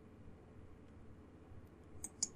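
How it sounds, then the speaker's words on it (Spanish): Two sharp computer mouse clicks near the end while working in ArchiCAD, quiet and close against faint room hiss. "Clic allí."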